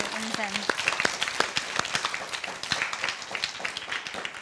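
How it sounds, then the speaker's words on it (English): A round of applause from a small group, scattered claps under a presenter's voice, with talk continuing over the clapping. "Let's give a big round of applause to Unsen."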